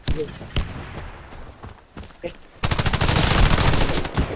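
Shooter video game gunfire: a few scattered shots over quiet background with brief talk, then a loud sustained burst of rapid automatic fire lasting nearly two seconds.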